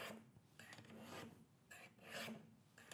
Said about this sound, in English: straight up and down against these stones